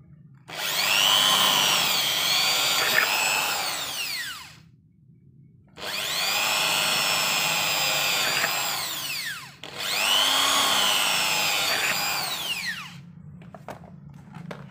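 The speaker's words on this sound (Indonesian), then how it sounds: "Kita langsung bor saja. Sebelum kita lubang yang besar, kita tandai dengan lubang yang kecil dulu." Three long bursts of a power drill grinding through an aluminium door, first a small pilot hole, each rising and whining, separated by short pauses, loud and near.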